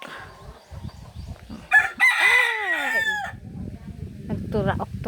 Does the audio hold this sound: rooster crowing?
yes